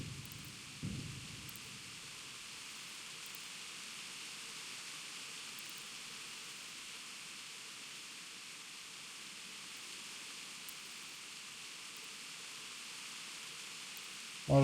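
Steady rain falling in the medieval video game Kingdom Come: Deliverance, a continuous even hiss throughout with a soft low rumble near the start.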